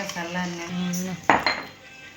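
Spice powder for mango pickle being mixed in a metal vessel: a ringing tone of metal on metal, then a sharp scrape and clatter of a spoon, close up, with no talking.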